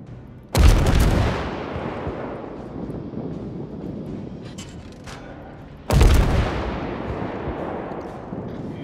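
Main battery guns of the Soviet cruiser Dmitri Donskoi fire in World of Warships. Two separate, thunderous salvos roughly five seconds apart each boom loudly and roll away in a long fading rumble.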